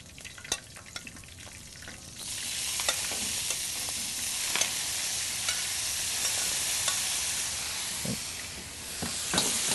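Blanched vegetables stir-frying in a hot pan, a strong steady hiss and sizzle that swells after the first couple of seconds, broken by the clicks and scrapes of stirring.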